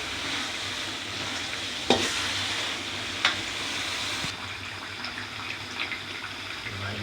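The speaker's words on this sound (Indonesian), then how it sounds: "Harus diaduk terus, jangan sampai ada yang gosong bumbunya." Spice paste frying in a pan for chicken or duck ungkeb, with a steady close sizzle, a few scraping knocks from stirring, and no talking.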